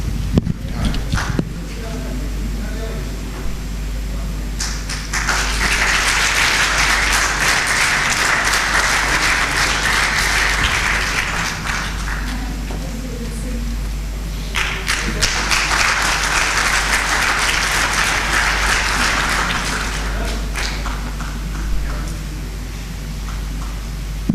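Two long bursts of audience applause at a university talk by Pakistan's Foreign Secretary, each clapping wave swelling and fading, with a quieter gap between them and steady low hum underneath.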